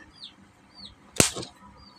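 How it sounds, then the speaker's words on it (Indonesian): A fuse resistor in an LED lamp driver bursts when the driver is plugged straight into 220V mains, a single sharp, close pop against a quiet background. "tadi terlihat ada suara ledakan terdengar"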